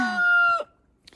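A rooster crows once, loud and close, its harmonic call holding steady before breaking off, followed by near silence and a faint rustle.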